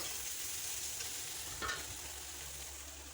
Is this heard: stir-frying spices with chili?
yes